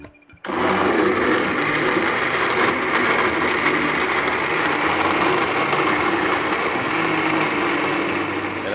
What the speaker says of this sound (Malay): Jadi kita akan mula mengisar bahan-bahan